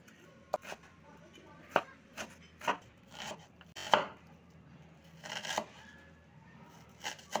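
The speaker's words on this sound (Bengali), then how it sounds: "পেঁয়াজটা একটু পাতলা পাতলা ছোট ছোট করে কেটে নেব।" Onion being chopped into thin, small pieces with a knife on a board: a close series of crisp, irregular taps and slices with short pauses between them, and no talking.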